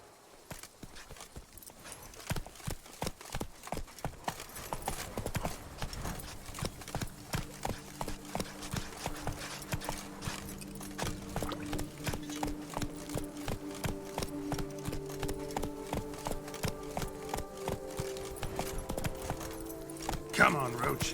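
Roach, Geralt's horse in The Witcher 3: Blood and Wine, with hooves clip-clopping in a steady, close rhythm that grows busier toward the end, while faint voices talk in the background.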